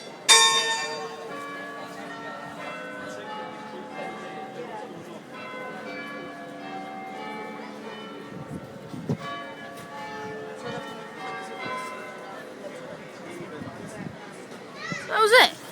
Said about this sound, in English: Chimes of Carfax Tower. Pretty loud.